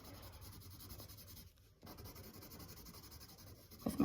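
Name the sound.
colored pencil coloring on paper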